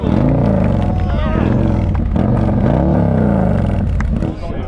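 A motorcycle engine revs hard with the throttle, its pitch sweeping up and down, loud and close throughout, with people talking over it, on a ride from Southern California to Sturgis.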